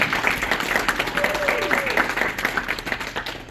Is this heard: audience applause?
yes